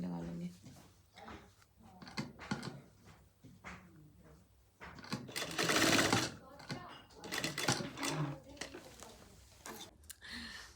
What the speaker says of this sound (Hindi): और फिर यहाँ पे सिलाई लगा लेंगे